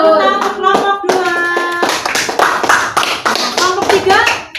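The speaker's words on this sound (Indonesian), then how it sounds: "tepuk tangan untuk kelompok 2." A classroom of students applauds a student group, with a brief chanted vocal pattern giving way to loud, close, rhythmic hand clapping that continues throughout.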